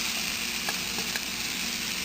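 Steady, close sizzle of spices frying in oil in a pan while making paneer biryani, a continuous hiss with a few faint clicks of stirring and no talking.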